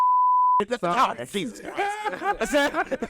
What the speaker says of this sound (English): I'm gonna beep that out